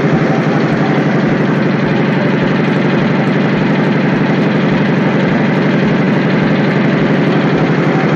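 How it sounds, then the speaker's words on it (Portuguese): An air compressor in a factory runs loud and close as a dense, continuous mechanical drone with a rapid pulsing throb, steady from start to finish with no talking. "nós temos aqui o compressor que liga várias e várias vezes ao longo do dia na fábrica"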